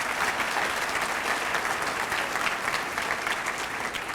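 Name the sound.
audience applause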